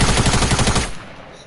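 A rapid burst of submachine gun fire in Fortnite, loud and close, a fast rattling string of shots that stops abruptly partway through and leaves a short fading tail.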